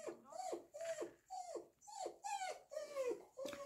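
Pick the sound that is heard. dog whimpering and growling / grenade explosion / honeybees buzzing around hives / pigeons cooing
dog whimpering and growling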